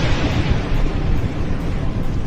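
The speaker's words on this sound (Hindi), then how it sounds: "नेतन्याहू की नींद उड़ाने वाले धमाकों से बेचैन हो गए हैं ट्रंप।" Explosions from missile strikes in Israel roar as a dense, loud, sustained rumble with no distinct separate blasts, filling the whole stretch without speech.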